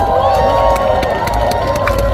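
A concert audience at a live Korean trot show in Yeosu applauds and cheers, a loud, dense wash of clapping and crowd noise with a sustained tone underneath, heard close throughout.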